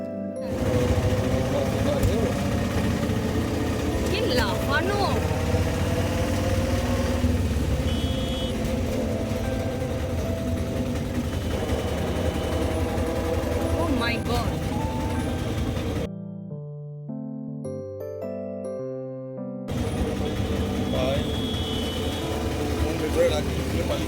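Jumbo toto, a shared electric rickshaw, carrying passengers away from Haridwar station: a steady road rumble and hum runs throughout, with a brief musical passage partway through and a clear voice talking over the ride.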